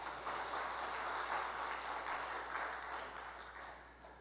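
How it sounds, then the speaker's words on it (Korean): A church congregation breaks into sustained applause, a soft, even wash of many hands clapping in a large room, slowly fading toward the end. "박수 한번 칩시다"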